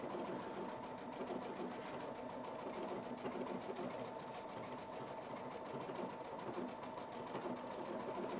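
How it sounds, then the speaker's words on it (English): A Brother Stellaire XJ2 sewing machine stitches a sideways-moving decorative pattern into fabric, running as a steady, fast, evenly pulsing mechanical whir close up and alone, with no break for the whole stretch. "And it's sewing, it's continuing that pattern on."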